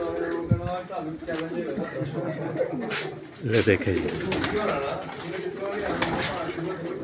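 Pigeons on a rooftop coo and call amid rustling activity, while people talk over them throughout.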